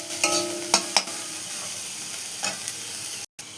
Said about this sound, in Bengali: দেওয়ার পর দেখো নাড়াবো